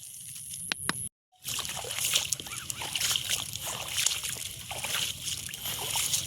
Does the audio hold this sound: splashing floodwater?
yes